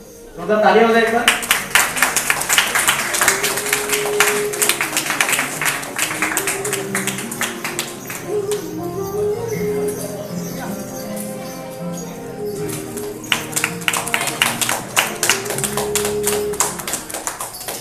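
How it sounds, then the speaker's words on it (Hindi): Sustained applause from the audience at a sports award ceremony, dense rapid hand claps running loud throughout with a musical tone underneath, while the crowd keeps clapping steadily. "जोरदार तालियां हो जाए एक बार।"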